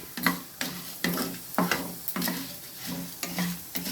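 Coriander seeds and dried red chillies roasting in oil in a pan: rhythmic scraping strokes of a spoon repeat about every half second over a soft crackling sizzle, close up with no voices.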